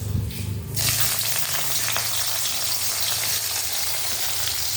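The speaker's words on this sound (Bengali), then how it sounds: "এবার আমি ভেজে নেবো উচ্ছে আলুটা" Bitter gourd and potatoes hit hot oil with a sudden loud sizzle that then settles into a steady, close frying hiss with light stirring, no talking.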